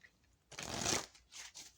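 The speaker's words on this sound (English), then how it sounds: "I already shuffled these two, so I don't know why I'm doing it again." Tarot cards are given a quick riffle shuffle, a soft, close papery burst lasting under a second, followed by a lighter flutter.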